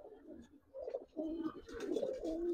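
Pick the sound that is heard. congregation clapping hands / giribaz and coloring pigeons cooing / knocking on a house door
giribaz and coloring pigeons cooing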